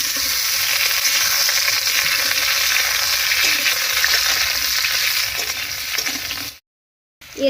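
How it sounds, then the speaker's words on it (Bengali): Pointed gourd (potol) frying in mustard oil in a wok, giving a loud, steady close sizzle with faint scraping that cuts out abruptly near the end before returning. "এবারে কড়াইতে সরষের তেল দিয়ে পটলগুলো হালকা করে ভেজে নেব।"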